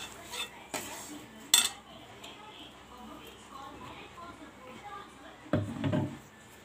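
A spoon scrapes and clinks in a pan while stirring aval upma mix, a few sharp metallic knocks scattered among quieter scraping, with someone talking throughout.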